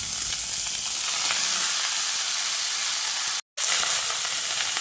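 Washed and drained young jackfruit frying in hot oil for a jackfruit and potato curry, a steady close broadband sizzle throughout with a brief silent cut near the end.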